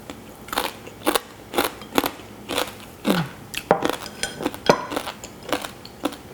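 Crispy pork belly skin crackles and crunches under repeated bites, a dozen or so sharp close-up crunches spaced about half a second apart with no talking.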